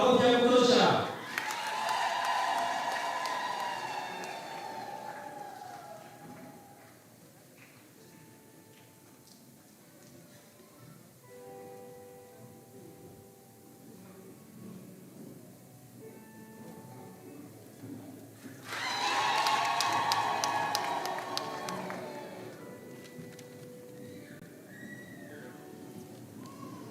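Applause from a crowd at a tenth-anniversary celebration of the Mangalore Africa Mission community in Kifaru parish, bursting out loudly at the start, fading under a murmuring crowd, then swelling again in a second round near the end.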